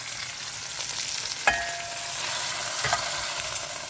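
Shrimp sizzle steadily in a hot pan, a constant crackling fry with a couple of small clinks from utensils, close and alone with no voices.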